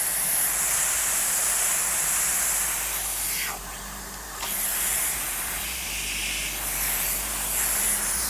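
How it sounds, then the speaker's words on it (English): Steady, loud hissing spray of water from a lawn sprinkler head running continuously, dipping briefly in the middle before resuming at full strength. "so that is spraying exactly where I want it to go"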